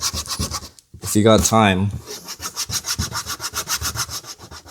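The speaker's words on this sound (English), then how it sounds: "you just take your eraser and you just rub it right off" An eraser rubs polishing compound stains off plastic car trim in fast, even back-and-forth strokes, loud and close, with someone briefly talking over the scrubbing near the start.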